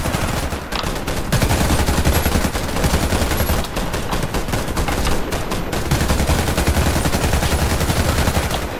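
Rapid, loud automatic gunfire from a weapon in the online shooter Warface, sustained bursts of shots with brief pauses between them and no talk over them.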